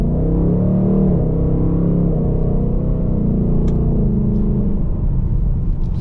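Engine of a 2023 Ford Mustang GT Premium with a 10-speed automatic pulls away after an emergency stop, a steady loud low rumble rising through the gears with no talk over it.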